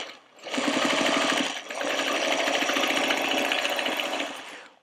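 A sewing machine sews around a reversible trick-or-treat bag in a close, loud, continuous whirring run, broken by one short pause partway through.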